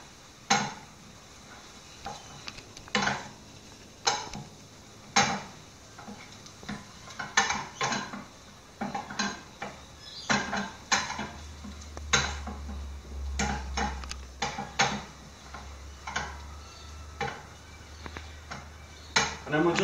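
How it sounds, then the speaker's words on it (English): Curry paste is stirred in a pan with a utensil, producing repeated sharp metallic clinks and scrapes against the pan at an irregular rhythm, close by, with a low hum building underneath partway through. "we're going to add the curry paste to the pan."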